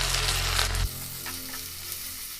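Onions, ginger garlic and curry leaves sauteing in hot oil, a close, busy sizzle that drops to a softer, steady crackle after a moment, no talking.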